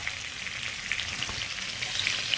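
Vegetables fry in a pan while a Bengali vegetarian meal is cooked, giving a steady, close hiss and sizzle with faint crackles throughout and no talking.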